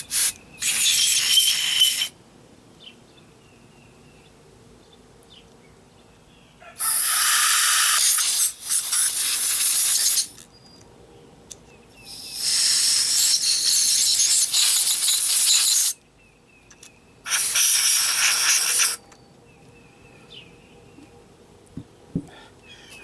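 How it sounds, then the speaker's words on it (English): Canned air blasts through a 30hp Evinrude outboard carburetor in four sharp, hissing sprays of a few seconds each, separated by quiet gaps with faint handling clicks. "I like to use the canned air versus the air compressor. And I'll just blow through all these."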